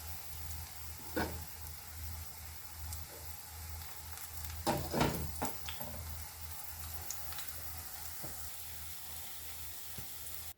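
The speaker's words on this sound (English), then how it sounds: "It's nicely combined with chickpea flour now, ready for frying." Veggie fritters bound with chickpea flour frying in a pan give a steady, quiet sizzle with scattered crackles and a brief louder burst of spatter midway, with no voices.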